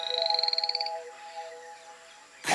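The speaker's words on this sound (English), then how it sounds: "Poison dart frogs." Poison dart frogs in a jungle setting give a fast series of high, trilling croaks that pulse rapidly for under a second, then fade to quieter ambience before a brief louder noise at the end.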